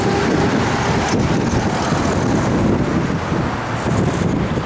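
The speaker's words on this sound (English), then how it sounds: "The wind's whipping around here." Wind whips across the microphone outdoors beside a 1969 Chevrolet Camaro, a steady broadband rush with gusty swells and no speech.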